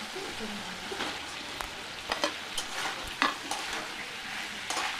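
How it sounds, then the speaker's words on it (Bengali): Potato and young jackfruit fry and get stirred in spice paste with released oil, a close crackling sizzle broken by sharp spatula scrapes and pops, with no talking. "এঁচোড় আলু দিয়ে ভালো করে আবারও কিছুক্ষণ কষিয়ে নেব।"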